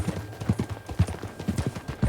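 Horse hooves clip-clop in a steady trotting rhythm during a ride in the video game Red Dead Redemption 2, close and fairly loud, with no talk over them.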